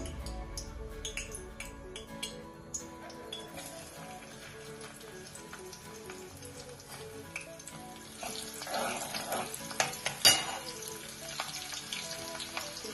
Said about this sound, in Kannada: ಈಗ ಒಗ್ಗರಣೆ ಹಾಕೋಣ. ಎಣ್ಣೆ ಕಾಯಕ್ಕೆ ಇಟ್ಟಿದ್ದೇನೆ.